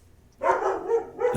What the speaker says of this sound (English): sorry about my dog there